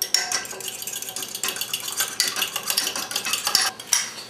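A fork whisks eggs with a splash of milk in a bowl, rapid close clinking and tapping strokes rattling in quick uneven bursts, with no talking.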